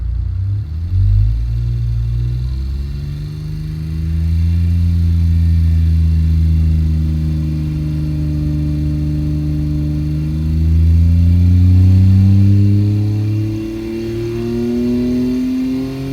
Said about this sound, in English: we might as well make a dyno run and see how she does